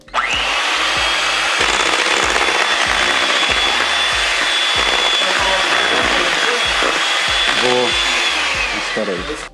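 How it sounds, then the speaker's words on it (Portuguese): An electric hand mixer beats chocolate cake batter, a steady loud motor whine with scraping and knocking against the bowl, running without a break for nearly the whole stretch. "Agora a gente vai pegar uma batedeira, vai bater tudo aqui."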